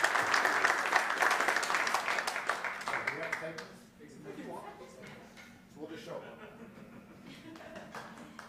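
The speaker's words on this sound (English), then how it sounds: "One nice round of applause for Jeff Platt" Studio audience applause at a poker awards show in Las Vegas, brisk clapping for about three seconds that tapers into scattered claps, light chuckles and someone talking.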